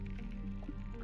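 Soft liquid trickle of a glass being filled with water in the video game Villa Blinds, faint and brief over a low background hum.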